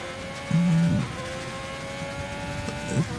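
Race car from a video game driving through a baseball stadium section, with a steady engine drone and a brief tire squeal chirp near the start and another near the end.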